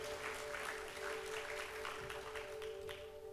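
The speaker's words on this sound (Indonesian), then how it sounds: "berikan tepuk tangan buat nama Tuhan" Congregation applauding at a church service, a steady, moderately quiet patter of many hands lasting a few seconds, with a faint sustained tone running underneath.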